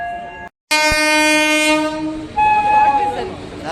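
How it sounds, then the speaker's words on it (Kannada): An Indian Railways train at a station sounds a long, loud multi-tone horn close by, followed by a second horn blast over rumbling wheels and platform noise. "ನಮ್ಮ ಟ್ರೈನು ಇಲ್ಲೇ ಇದೆ"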